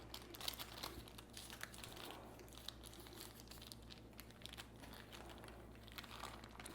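Paper is peeled off a freshly baked pumpkin roll cake, giving soft, irregular crinkles and small tearing sounds. The sound is faint and close against a quiet background, with no speech.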